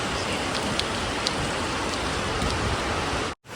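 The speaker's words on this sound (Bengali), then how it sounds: "আজকে খুব খুব বৃষ্টি পড়ছে সকাল থেকে" Heavy rain pouring down, a dense, loud, even roar of drops with a few brighter splashes, cutting out abruptly just before the end.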